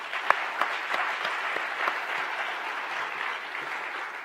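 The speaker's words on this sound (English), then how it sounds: "Let's give them a round of applause, too." A room full of people claps steadily, dense overlapping applause at a moderate level with a few sharper claps standing out.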